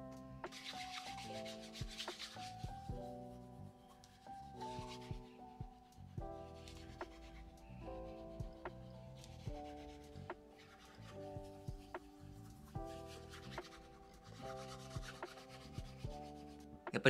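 Berwick 1707 leather shoes, grey leather aged to a burgundy tone, polished by hand with repeated soft rubbing strokes in a steady back-and-forth rhythm over quiet background music.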